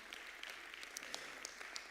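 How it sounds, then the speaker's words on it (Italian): Faint, distant audience applause at a live music audition event in Italy, a soft continuous patter of many hands with scattered brighter claps and no speech. "chiedo un applauso per loro"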